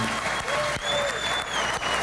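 Audience applause for art competition artists at an ArtPrize finalist unveiling, a brief steady burst of clapping from a crowd, close and fairly loud.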